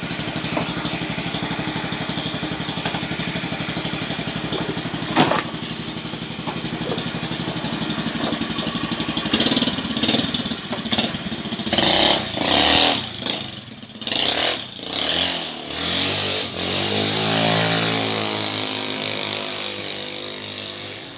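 Carbureted Honda Beat motorcycle engine is tested after a carburetor air adjustment: a steady buzzy idle, then a string of sharp throttle blips rising and falling in bursts, loud and close.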